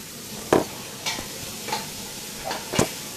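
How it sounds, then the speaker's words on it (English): Onions frying for minced beef stirred in a pan, a steady soft sizzle broken by several scraping strokes of the spoon at irregular intervals, close and clear with no talking. "My nice assistant is there stirring away."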